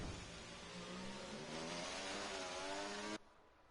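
A McLaren race car in a racing video game at Monaco speeds past with a high, rising engine note that climbs steadily in pitch and then cuts off abruptly.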